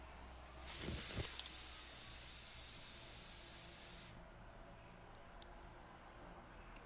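A pressure cooker with soybean rice inside gives off a steady, high steam hiss for about four seconds, then cuts off and leaves quiet kitchen background.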